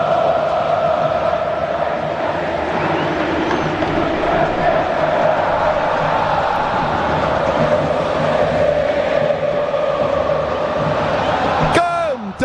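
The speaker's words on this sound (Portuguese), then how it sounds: "A Bandeirantes vai trazer o Morumbi tomado, sinta o clima no Morumbi." A packed crowd of São Paulo football fans roars at Morumbi stadium before a quarter-final decider, a loud, continuous, chanting mass of voices filling the whole stretch, with a faint whistle near the end.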